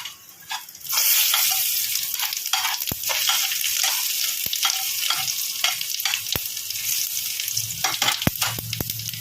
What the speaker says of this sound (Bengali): ওই তেলেই আমি শুকনো লঙ্কা, তেজপাতা এবং জিরে ফোড়ন দিয়ে নিচ্ছি।